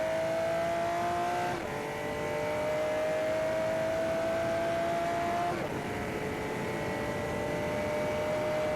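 A Lamborghini engine revving hard, likely the Aventador S Roadster, a loud close howl climbing through the revs with two sharp gear shifts and no talk.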